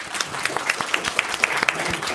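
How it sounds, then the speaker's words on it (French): An audience claps for a speaker at a French-language management talk, a steady patter of hand claps throughout, moderately close, with no voices over it. "On peut l'applaudir, s'il vous plaît."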